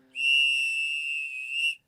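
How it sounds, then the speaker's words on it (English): A loud, shrill referee whistle blast held steady for well over a second, then cut off abruptly. "a referee whistle."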